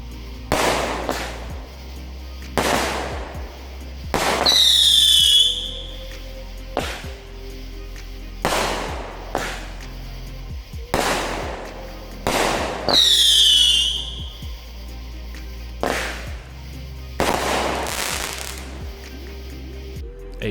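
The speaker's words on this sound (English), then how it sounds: "A 15-shot American Muscle by World Class." A 15-shot American Muscle firework cake by World Class fires a rapid series of loud booming shots in irregular bursts, some followed by crackling, whistling tails, over about twenty seconds with no talking.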